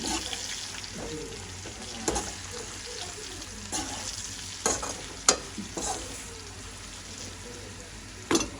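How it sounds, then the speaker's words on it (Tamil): Seafood being mixed by hand with salt and spice powder makes a close, wet crackling rustle, with scattered sharper clicks and squelches as it is tossed. "கொஞ்சமாக உப்புத்தூள், மற்ற கட்டைத்தூள் போட்டு நல்லா இருக்க மிக்ஸ் பண்ணிட்டு"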